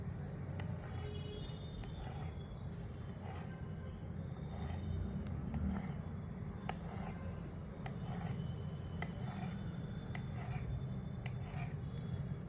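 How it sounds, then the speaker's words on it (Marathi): Rolled masala mathri dough is cut into evenly spaced pieces, giving faint, soft rasping and scattered light taps of the blade throughout, with no one talking. "आता हा आपल्याला कापायचा आहे हे बघा आता याला असं सारख्या अंतरावर कट करून घ्यायचं"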